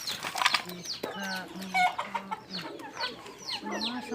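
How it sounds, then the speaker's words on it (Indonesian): Hens and chickens under a guava tree in a Central Java village yard, clucking repeatedly in short bursts with a few higher squawks, close and fairly loud. "Ini ada lagi ayam satunya loh, ayam betina di bawah pohon jambu."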